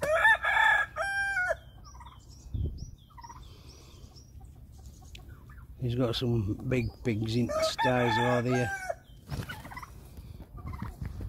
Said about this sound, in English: cockerel fighting with turkey